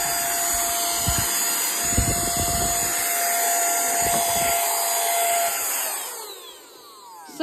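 A mini handheld vacuum cleaner runs with a steady high-pitched motor whine and airy suction hiss while tidying small areas in a sewing room, with a few brief rattles partway through and the motor winding down near the end.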